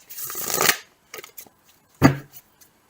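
A few quick riffling shuffles of tarot cards, short bursts separated by pauses, close and fairly loud with no talking.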